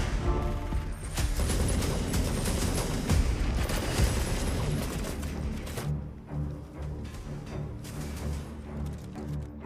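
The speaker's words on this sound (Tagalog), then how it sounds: "Sumiklab ang isang matinding palitan ng putok habang parehong panig ang nagpakawala ng sunod-sunod na" Intense gunfire exchange in an action film, with dense, sustained volleys of shots and crashing impacts filling the scene loudly and then thinning toward the end, without any speech.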